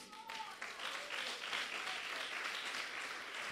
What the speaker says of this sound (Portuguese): Vamos aplaudir por isso?